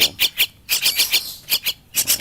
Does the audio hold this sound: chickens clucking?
no